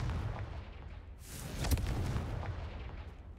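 A Confringo fire spell blast from the Hogwarts Legacy video game erupts as a loud, bright burst with a sharp crack near the middle, then rumbles out over steady game ambience.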